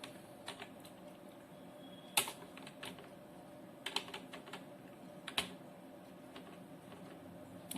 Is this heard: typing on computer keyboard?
yes